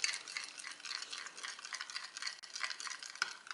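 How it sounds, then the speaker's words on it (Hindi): Beaten eggs thinned with a spoonful of water are whisked with a spoon in a bowl, giving a steady run of close, quick scraping clinks and light sloshing with no talk. "ये डाल के इनको दोबारा मिक्स कर लेते हैं।"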